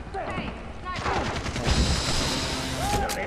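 Rapid bursts of gunfire in Far Cry 3 co-op play, with a sniper rifle in use, sounding as a dense, rattling volley that runs almost continuously under faint player voices.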